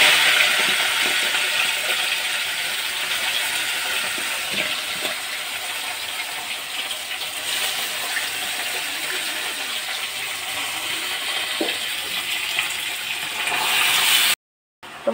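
Water lily stems dropped into a hot karahi of oil tempered with five-spice and bay leaf, giving a loud, steady broadband sizzle and hiss that runs almost unbroken before cutting off near the end.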